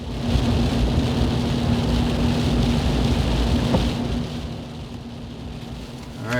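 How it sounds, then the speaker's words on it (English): Rain falls steadily on a dark, wet early morning in a Vermont river-bottom turkey-hunting spot, a constant wash of patter close by with a low rumble underneath and no talk. "it's dark and rainy, so we've got plenty of time"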